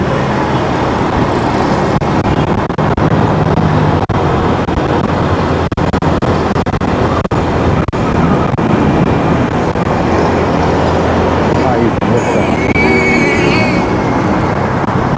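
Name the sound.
road traffic in Davao City, Philippines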